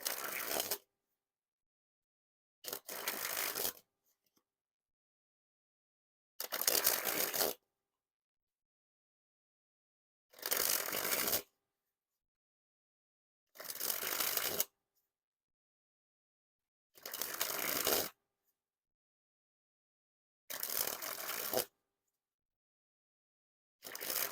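Red Bicycle Mazing playing cards springing from hand to hand in eight separate bursts, each a short crisp fluttering riffle with silent pauses between, close and clear.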